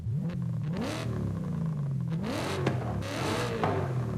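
A racing car engine in the racing video game Forza Horizon 5 revs up and down repeatedly with crackling, popping exhaust burbles, loud and close.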